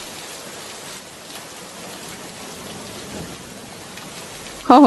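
A cartoon village rainstorm gives a steady, even hiss of falling rain, and a voice cuts in briefly right at the end.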